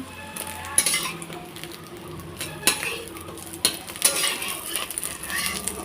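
A spatula cuts and scrapes an egg omelette in a frying pan, with a few clinking metal taps over soft background sizzling.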